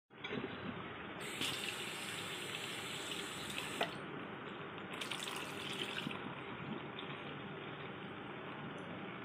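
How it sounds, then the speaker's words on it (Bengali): Tap water runs continuously into a sink while coconut pieces are washed, with a steady rushing stream and brief brighter splashes as the pieces are rinsed under it, close and without talk. "তো চলো এগুলোকে ভালো করে সুন্দর করে একটু ধুয়ে নিই, নোংরা হয়ে গেছে।"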